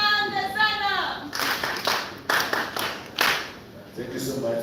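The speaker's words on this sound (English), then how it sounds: "I ask us to give another round of applause" Scattered bursts of clapping at an annual general meeting and elections, several short rounds of hands separated by gaps, with voices speaking at the start and end.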